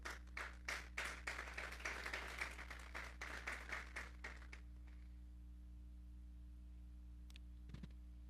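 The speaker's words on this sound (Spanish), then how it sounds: "Vamos a darle un fuerte aplauso pues al Señor" A small church congregation claps in a quick, uneven series of distinct hand claps that fade out after about four seconds, leaving a faint room hum and a stray click or two.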